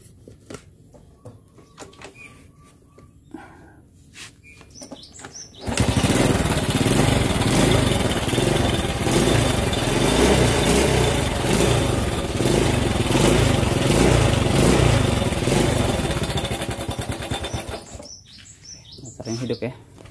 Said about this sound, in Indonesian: langsung kita coba tes motornya hidup apa enggak ya